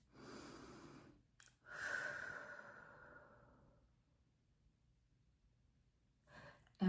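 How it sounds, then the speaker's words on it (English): Slow, soft breaths during a relaxation exercise, with a long inhale then a longer sighing exhale, close and gentle, followed by quiet and another breath starting at the end. "Breathe."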